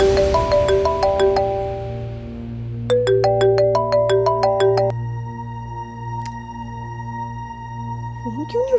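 A phone's melodic ringtone plays a repeating chime phrase twice and then continues with lingering tones over a low steady background drone, loud and close, with the call going unanswered.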